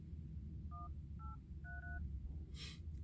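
Three short telephone keypad tones, each a quick dual-pitch beep, sound quietly over a low background hum, followed by a brief hiss.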